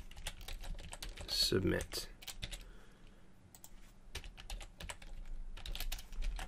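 Close computer keyboard typing in quick bursts of clicking keys while code is entered, under someone talking during part of it.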